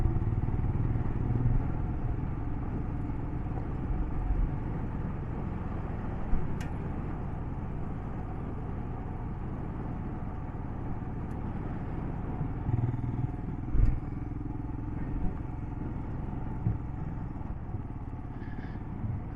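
A Royal Enfield Himalayan motorcycle rides off-road in the Filabres hills of Spain. Its engine holds a steady, close drone throughout, with occasional faint clicks and knocks from the rough track and no talking.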